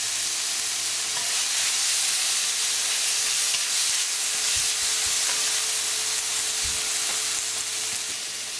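Onions and tomatoes sauté in a pan with a continuous loud sizzling hiss, broken by a few soft stirring knocks and scrapes, and no voices.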